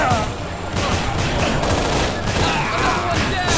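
Continuous automatic gunfire from the video game Infernal, a loud, dense rattle of shots running without pause from start to end.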